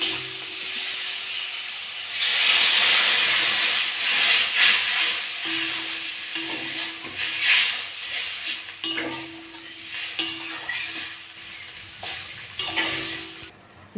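Water poured into a pan of hot, oil-separated fish masala for a spicy fish curry, raising a loud continuous sizzle and hiss with stirring scrapes, close and alone.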